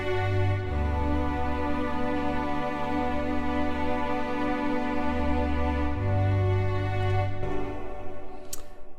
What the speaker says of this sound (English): these are Session Strings Pro 2 by Native Instruments